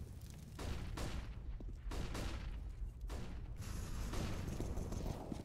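Pistol fire rings out during a competitive Counter-Strike match on the map Mirage, with sharp shots in quick clusters separated by short pauses, some close and punchy, others trailing off with echo.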